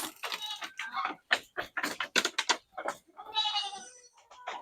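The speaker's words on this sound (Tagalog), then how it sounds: "nakita niyo yung mga alaga namin kambing" Several goats bleat in quick succession, close by, with short harsh calls overlapping and a person talking briefly between them.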